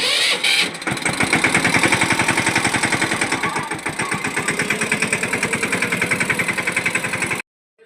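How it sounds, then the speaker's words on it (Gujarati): Loaded farm tractor carrying fodder on a village track, its diesel engine chugging in a loud, fast, even beat close by, then cutting off abruptly at the end. "તો જો ટ્રેક્ટર ભરાઈ ગયું હતું, અને હવે આપણે જો આમ જઈએ છીએ"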